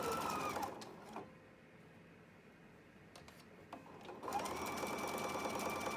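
A sewing machine runs in short bursts while chain sewing quilt pieces, the rapid needle chatter starting, pausing in a quieter gap with faint clicks, then resuming loudly and close.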